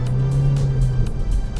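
A 2017 Vauxhall Insignia Grand Sport pulls away from a junction with a low engine drone and rising hum heard from inside, steady and fairly loud for a moment.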